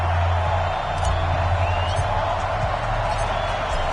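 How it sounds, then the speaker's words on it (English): Stadium crowd in an EA Sports American football video game, Washington Redskins versus New York Jets: a steady, dense roar of cheering with occasional whoops, fairly loud and continuous throughout. "this crowd is ready as their guys get set to match up"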